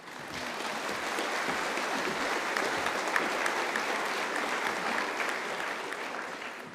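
A large audience at a university conferring ceremony claps steadily, a dense, even wash of applause that holds at moderate loudness from start to finish.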